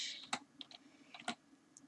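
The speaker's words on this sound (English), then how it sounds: "I'm typing with one hand." Scattered, light clicks of keys being tapped on a computer keyboard, irregular and sparse, close and quiet.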